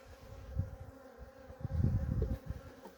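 Honey bees buzz at a hive during a check of a queenless colony, a steady low droning hum with swelling pulses, close and continuous with no voices.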